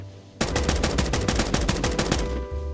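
Rapid rifle fire in the video game Escape From Duckov from a fast-firing rifle: a sudden burst of evenly spaced shots, loud and close, lasting about two seconds before cutting off.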